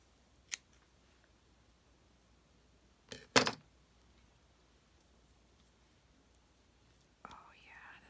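Scissors snipping fluff in a few quick, close cuts separated by quiet gaps, with soft whispering speech near the end.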